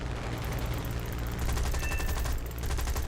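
Rapid bursts of 20 mm cannon fire from a Spitfire Mk II aircraft in War Thunder, a dense, continuous, close rattling volley with no talk over it.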